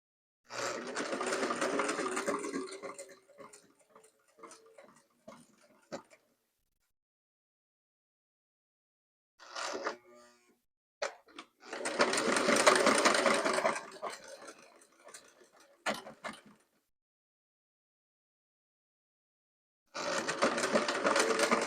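A Singer Model 603E sewing machine runs in three separate bursts of rapid, whirring stitching, a few seconds each, separated by silent pauses and a few faint clicks.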